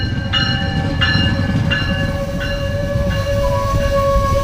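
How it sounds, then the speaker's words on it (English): A Metrolink commuter train pulls into a station, its horn sounding in repeated blasts over a steady rumble of wheels and rail noise that holds loud throughout. "but the train is 10 minutes late."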